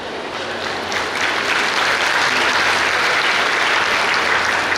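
Steady, dense applause from a large graduation-day crowd at a medical institute, sustained and even throughout.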